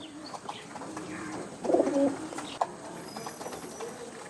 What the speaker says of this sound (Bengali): তো টোটাল এগারো পিস কবুতর